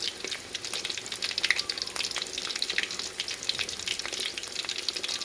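Steady crackling sizzle of sliced, batter-coated pork frying in hot oil, close and continuous, with occasional pops and spatters.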